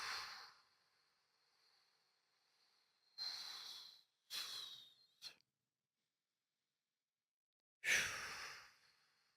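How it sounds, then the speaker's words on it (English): Slow breaths with drawn-out exhales, heard as a long airy breath at the start, then two separate breaths and a short puff, and after a pause a final loud, close exhale, with no talking. "You can slow your heart rate down by inhaling a little bit and exhaling longer than your inhale."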